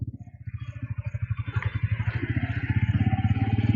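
A Bajaj Pulsar N150 motorcycle pulls away to begin a ride, its single-cylinder engine thumping in a steady pulse that quickens and grows louder as it moves off, heard up close.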